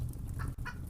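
A hen clucks in a fairy-tale scene, two short bright clucks standing out over a low steady rumble of background sound, alone without any talk.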